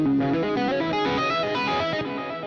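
An electric guitar played through effects pedals with the octaver switched off, ringing as a sustained, distorted chordal tone with a shimmering chorus-like texture, steady and loud throughout with no talking.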